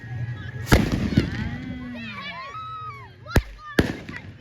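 Firecrackers bursting outdoors during a village Diwali celebration, three sharp cracks, one early and two close together near the end, with whistling rockets and voices in the background.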